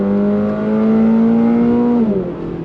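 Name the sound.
Toyota GR86 engine accelerating on throttle in track mode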